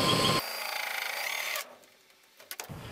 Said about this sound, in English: I'm going to have to pre-drill it.